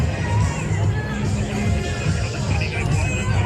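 Outdoor crowd at a maple syrup festival car show in Shepherd, Michigan, a steady murmur of many voices and general hubbub with no single standout sound.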